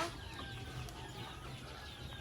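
White Kelso chickens cluck softly amid a dense wash of farmyard noise, with scattered bird calls over a steady background hum.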